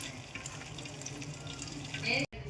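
Steady running cold water, like a stream poured from a tap, rinses cooked noodles for a couple of seconds with faint background voices, then briefly cuts out.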